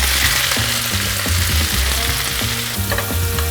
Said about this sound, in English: we are going to cook up some spinach. We're going to lightly fry that out.